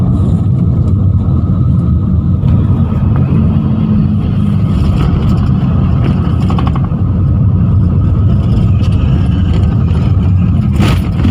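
A car driving over a rough, potholed city road, with a steady loud low rumble of the cabin and suspension throughout and occasional knocks and jolts as it crosses bumps and holes.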